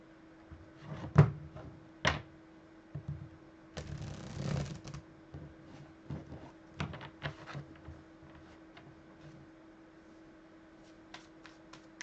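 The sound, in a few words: shuffling tarot cards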